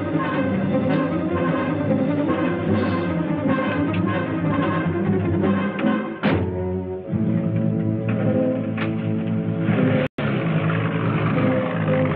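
Engine of a motor vehicle in a 1959 science-fiction film, loud and close, droning steadily throughout with a brief rise in revving before driving on.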